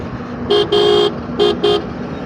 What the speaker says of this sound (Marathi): सो थांबला बघ एका हॉर्नवरती